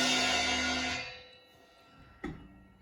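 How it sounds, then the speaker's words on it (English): A drum set crash cymbal struck with a stick rings out as a bright wash that decays over a second, followed by a single quieter tap. "So the highest note on a drum set is the crash cymbal,"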